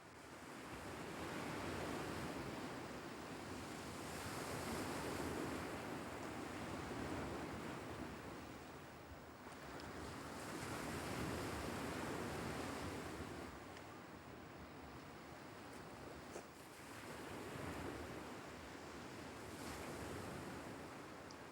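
Ocean waves and surf wash in slow, repeating swells in a film excerpt, a broad steady roar rising and falling every few seconds with wind noise and no voices.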